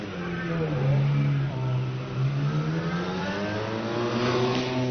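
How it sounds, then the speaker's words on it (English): A supercharged 2.3-litre straight-eight Bugatti Type 35B Grand Prix car pulls away off the line at a hillclimb, its engine note rising steadily and loud and close throughout, with other engine noise behind. "Up comes this lovely Type 35 Bugatti,"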